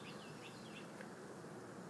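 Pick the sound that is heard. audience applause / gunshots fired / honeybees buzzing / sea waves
honeybees buzzing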